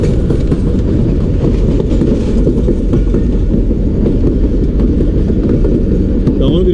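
The Jaffar Express runs steadily on rails through the Bolan Pass, a loud continuous rumble and rattle of wheels and carriages heard from on board.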